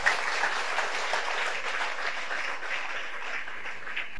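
A church congregation claps together for Jesus Christ, a steady, fairly distant wash of applause that holds evenly throughout with no talk over it.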